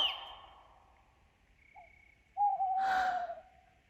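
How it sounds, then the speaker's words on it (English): An owl shrieking in a dramatized Macbeth scene: a faint breathy tone, then a sudden louder, harsh drawn-out screech with a wavering pitch, heard alone against quiet. "was the owl that shrieked"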